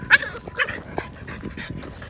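A female dog gives odd, alien-like vocalizations rather than true barks, a few short yelping and whimpering bursts close by, with some faint voice sounds mixed in.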